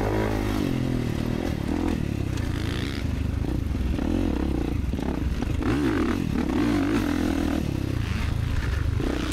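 A dirt bike engine roaring steadily during open motocross practice at Eugene MX on loose, powdery dirt, loud and continuous with rising and falling revs throughout.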